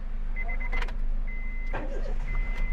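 Honda City car engine, just repaired after a CKP sensor wire fault on a CNG setup, cranks with a whirring starter burst, catches, and settles into a steady idle hum, with a faint electronic tone also heard.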